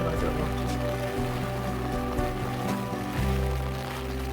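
Rain falls steadily on a wet hike along the Penguin Cradle Trail in Australia, a continuous patter with scattered drop taps over a low rumbling background, even in level and unbroken.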